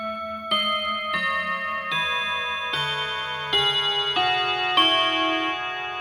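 An Urgos dual chiming clock plays a descending-and-rising sequence of clear bell tones, about eight notes struck in steady succession, each ringing on and overlapping the next, close and alone with no voices.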